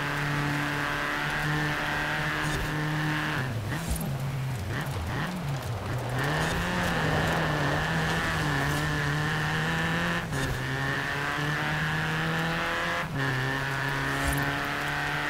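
Ford Escort rally car engine racing in the Forza Horizon 4 video game on a wet custom track, a sustained high drone with revs dipping and climbing through gear changes over about fifteen seconds.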